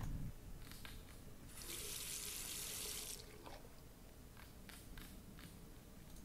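Tap water runs in The Last Door, a point-and-click game: a steady hiss of flowing water for about a second and a half, with fainter splashing and drips around it and no voices.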